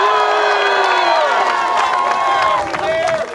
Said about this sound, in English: How about a big round of applause for the mayor of this great city?